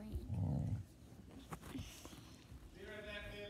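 A pet dog growls low and close, a rumbling burst near the start followed by softer grumbles, with people talking over it.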